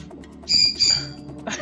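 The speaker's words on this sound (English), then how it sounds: "Also, sorry for the parrot." A pet parrot lets out two harsh, close squawks in quick succession, followed by a shorter squawk, loud against a quiet background.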